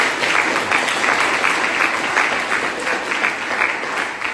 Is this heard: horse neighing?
no